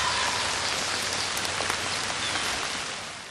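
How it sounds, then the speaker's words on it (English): Heavy rain pours down steadily during a spring turkey hunt in Pennsylvania woods, a dense close hiss of drops on surfaces that fades slightly at the end. "The rain is pouring"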